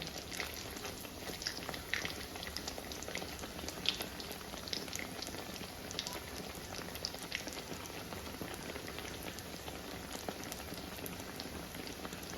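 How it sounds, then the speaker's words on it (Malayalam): Bread slices frying in a pan for a Kerala-style bread dish give off a steady, soft sizzle and crackle that holds evenly throughout, with no voices. "കണ്ടോ, എത്ര എളുപ്പം എന്നാണ് നമ്മുടെ ബ്രെഡ് നമ്മൾ പൊരിച്ചെടുക്കുന്നത്."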